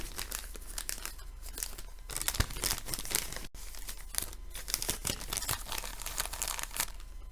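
A plastic bag crinkles and crackles almost nonstop up close as leftover fly-tying material is stuffed back inside, with one brief pause midway.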